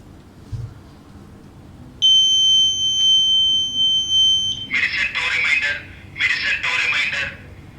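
A medicine reminder device built with an RTC and Bluetooth lets out a steady high electronic buzzer tone for a few seconds, then two rapid bursts of pulsed beeping, close and loud.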